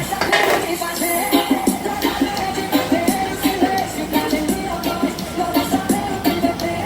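Metal cooking pot for seasoned rice clattering and clanking as it is handled in a home kitchen, repeated close knocks and scrapes of pans and utensils in an uneven rhythm, moderately loud.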